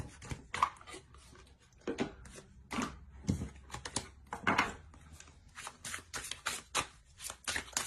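Tarot cards drawn and shuffled by hand, a run of quick close papery flicks and riffles in irregular bursts, crisp and fairly loud, no voices.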